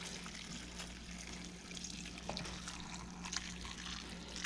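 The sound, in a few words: hot salted water poured over Napa cabbage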